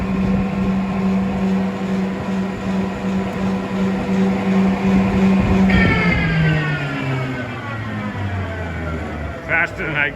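A prop shaft spins at high speed in a workshop lathe, making a loud, steady mechanical whine with a droning hum that shifts pitch partway through as the speed changes, then settles lower.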